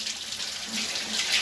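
Running water pours steadily while soap is rinsed off a dog being bathed at a campsite, a close, continuous splashing stream with no talk.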